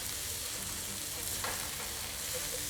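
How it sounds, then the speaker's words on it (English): Onions fry in a pan to soften, a constant close crackling sizzle with a brief stirring scrape in the middle. "I'm going to fry the onions off for about 4 or 5 minutes just to get them soft"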